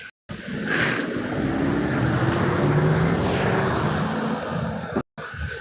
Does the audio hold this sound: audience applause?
no